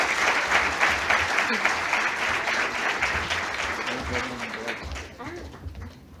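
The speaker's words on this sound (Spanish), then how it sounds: "Le damos un aplauso." Audience applause at a seminar on workplace psychosocial risk factors, a steady dense wash of clapping from a roomful of people that tapers slightly toward the end, with voices murmuring underneath.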